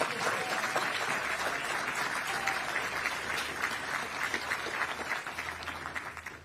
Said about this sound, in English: Give them an applause because they deserve it.